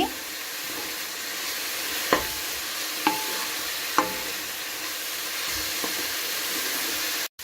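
Chopped onions for a dry arbi (taro root) sabzi frying in a pan: a soft continuous sizzle broken by a few sharp spatula clanks against the metal at irregular intervals, close up and alone.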